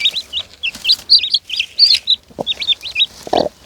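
High, rapid peeping of several chicks close by, repeated in quick bursts, with a couple of soft thumps and rustles.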